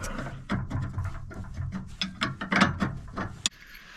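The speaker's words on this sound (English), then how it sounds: "come back with a 15/16 wrench and tighten that all the way up" Wrench tightening the bolt of a heavy-duty Outfitr Tire Hold Platform 2 e-bike rack carrier with a 15/16 wrench, giving a run of quick ratcheting clicks and metallic ticks at close range that stop abruptly near the end.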